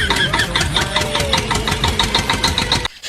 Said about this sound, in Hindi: बड़ी ही मुश्किल से ट्रैक्टर स्टार्ट हुआ है